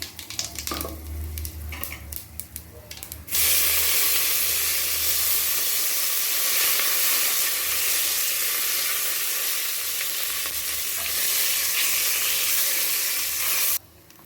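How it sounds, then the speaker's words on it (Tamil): Mustard seeds, fenugreek and asafoetida sizzle loudly in hot oil for sambar rice, a dense continuous hiss that holds for about ten seconds after quieter crackling at the start, close up and with no talk. "கடுகு, வெந்தயம்லாம் நல்லா சேர்ந்துருச்சு. இந்த நேரத்தில் கொஞ்சமாக பெருங்காயத்தை போட்டுக்கணும்."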